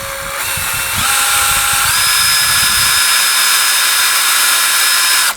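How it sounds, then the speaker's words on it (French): A loud power drill whirring steadily, rising in pitch as it speeds up, then holding a high, continuous whine as it drives a screw into plastic. "Je mets ça sur ma perceuse et ici, on y va."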